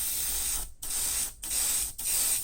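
An airbrush sprays clear orange lacquer onto a scale model airframe in steady bursts of hissing spray, broken by three short pauses, loud and close with no talk.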